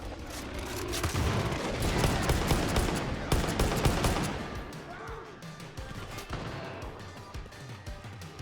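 Video game gunfire in Far Cry 5, dense rapid bursts of automatic weapons and sharp shots crackling continuously, with heavier bangs mixed in, loud and busy throughout, easing slightly toward the end.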